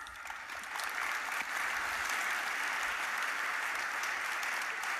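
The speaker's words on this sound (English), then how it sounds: "Let's give them a round of applause." Sustained audience applause fills a large conference hall at the DrupalCon Nashville 2018 closing session, a dense, steady wash of many hands that swells after the first second and holds loud and even throughout.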